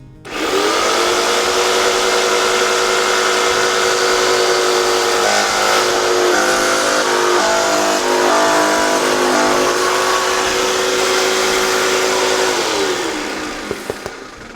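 Power saw blade cutting through a polypropylene plastic garage floor tile, a loud steady whine running continuously for about thirteen seconds before winding down at the end.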